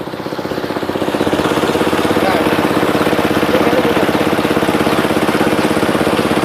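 An engine-driven pump drains a fish pond, running with a steady, loud, rhythmic chug close by while people talk over it.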